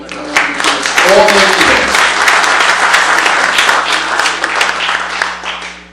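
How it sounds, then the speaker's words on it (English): A conference crowd gives a round of applause for a speaker, a full, sustained roar of clapping with a voice briefly heard early on, fading gradually at the end. "a round of applause for Laney"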